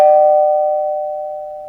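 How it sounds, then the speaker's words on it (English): A doorbell sounds once as an audio drama effect, a single clear chime that rings out loudly and slowly fades away, alone with no talk. "When the doorbell rang"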